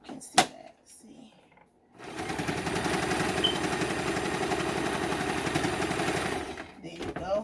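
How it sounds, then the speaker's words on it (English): A sewing machine stitches a homemade fabric face mask in one continuous, rapid mechanical run of about five seconds, after a few brief clicks and handling noises. "going to actually sew it a little closer just so I can secure the end"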